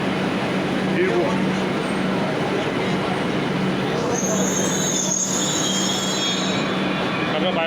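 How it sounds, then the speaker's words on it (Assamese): A metro train pulls in, wheels squealing in sustained high shrieks over a loud rumbling rail roar, close by and continuous for the whole stretch. "অকল এইফালে মেট্ৰ' ওলাইছে"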